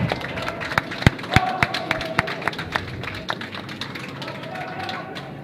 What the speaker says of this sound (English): We're going to clap as these teams come off